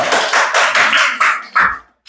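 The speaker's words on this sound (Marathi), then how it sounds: "तिच्यासाठी एकदा टाळ्या वाजवा." A classroom of students applauds a classmate with a burst of dense, loud clapping that tapers off after about a second and a half, followed by a single faint clap after a short pause.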